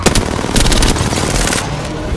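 Rapid automatic gunfire in Apex Legends crackles loud and close in dense bursts, an unbroken stream of shots with a brief gap.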